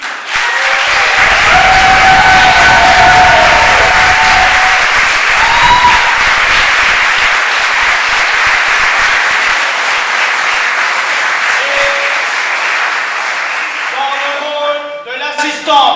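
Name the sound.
audience applause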